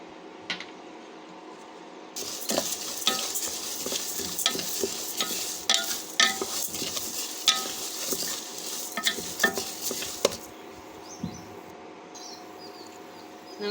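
Rice being stirred in a pan while making amla (gooseberry) masala powder, a steady dry scraping and rustling with light sizzle, loudest in the middle stretch and fading toward the end.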